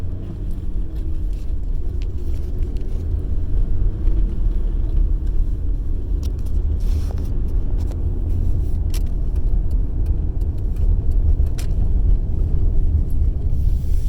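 A manual Ford Ranger pulls away in first gear from a stop sign with a light touch of gas. The engine gives a steady low rumble throughout, and a few faint clicks and rattles sit on top.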